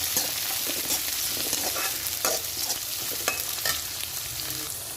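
Chopped tomato frying in an oiled pan for egg rice gives a steady close sizzle, broken by occasional light scrapes and clicks of a stirring spoon, with no voices.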